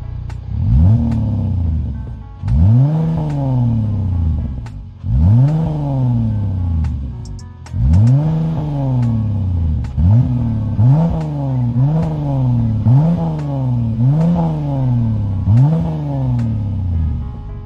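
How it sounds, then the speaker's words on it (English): A Dodge Durango with a Borla Pro XS exhaust and X pipe revs repeatedly, deep rising-and-falling roars in steady bursts, loud and close, with the engine idling between pulls. "a little update of what the exhaust sounds like"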